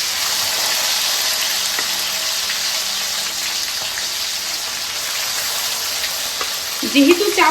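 Chicken pieces sizzle in hot oil spiced with garam masala for chicken chaap, a steady loud crackling hiss throughout, with a brief clatter of a utensil near the end.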